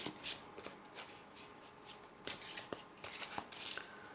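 Tarot cards being drawn and handled: quiet, close papery slides, flicks and taps scattered through a soft background, with sharper clusters of card rustle toward the end and no talking.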